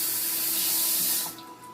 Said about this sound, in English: I'm going to rinse my hands just a second.